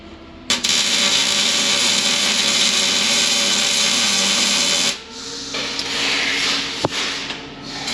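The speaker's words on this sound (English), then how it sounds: "and then we'll bolt our piece in" Power tool whirring steadily as a piece is bolted in, a loud continuous motor whine that stops and restarts at a different pitch, close up with no talking.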